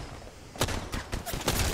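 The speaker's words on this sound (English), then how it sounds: "I'm getting shot at." Video game gunfire comes in several sharp, close bursts, with short gaps between shots, over a faint background hum.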